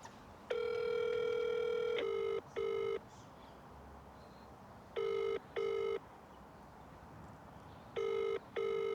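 An outgoing phone call rings unanswered to an Uber Eats customer, heard as a steady ringback tone with repeated paired electronic rings separated by pauses, up close with no talking.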